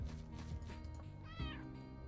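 A cat meows once with a rising-falling tone, heard over a steady bed of game music and background noise.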